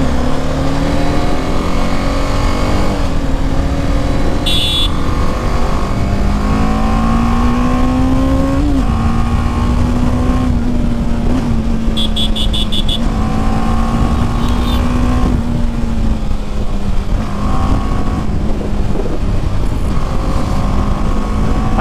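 A motorcycle engine is revved repeatedly during a throttle response check, a loud, close, continuous drone whose pitch rises and settles across several blips of the throttle, with no one talking over it.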